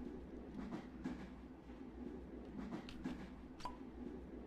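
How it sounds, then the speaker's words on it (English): Train ride in a video game, a steady low rumble of rolling carriages with faint rhythmic clatter and a few brief higher clicks, moderately loud and continuous throughout. "Taking the train with your girlfriend."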